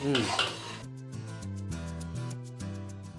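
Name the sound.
stirring gram flour with ghee in a pan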